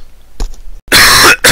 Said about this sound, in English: I've got a cough so bad